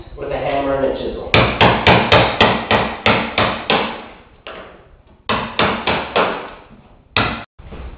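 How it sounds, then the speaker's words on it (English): A hammer strikes a chisel set on a wooden floorboard during wood flooring installation, about a dozen loud, sharp taps in quick bursts with short pauses between groups. "With a hammer and a chisel."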